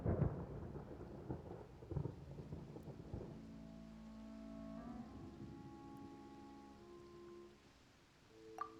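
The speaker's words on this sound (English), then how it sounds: "Paimon hears thunder!" Deep rolling thunder with rain in the video game Genshin Impact, loudest at the start and slowly fading under soft sustained musical tones.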